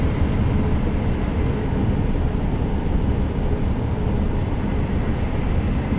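An airplane in Microsoft Flight Simulator 2024 taxis fast over a wintry airfield, giving a steady, dense engine and rolling rumble that holds constant throughout with no speech.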